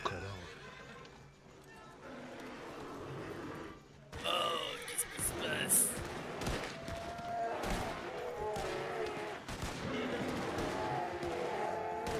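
A horse neighs in the video game Nat Love Chronicle amid a busy in-game mix of shuffling hooves, thuds and crowd noise, with people talking over it.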